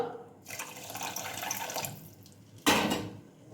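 Water poured from a tap into a pan of sugar to make a sticky syrup for mini gulab jamun, a steady rushing splash in two bursts, close and fairly loud, with no talking.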